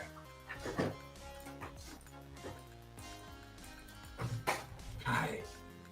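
A dog lying under a desk makes a few soft whimpering and yipping noises, close by and intermittent, over a background of other room sounds.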